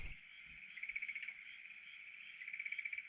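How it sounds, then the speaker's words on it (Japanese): Frogs croak outdoors near a newly moved-into house in a loud, continuous chorus of rapid trilling, swelling in pulsing waves with no voices. "このね、カエルの鳴き声、"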